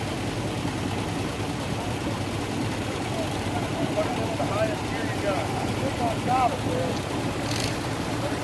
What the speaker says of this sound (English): Just a really nice Farm-all Super MTA coming up here